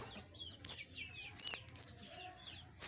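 Chickens cluck softly in short, scattered calls, with a few sharp peeps and clicks over a quiet outdoor background.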